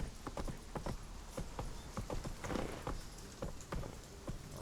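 Hooves of Roach, a horse in The Witcher 3: Wild Hunt, clip-clopping in a quick uneven gallop rhythm, close and fairly loud, with a soft rain-like hiss in the background.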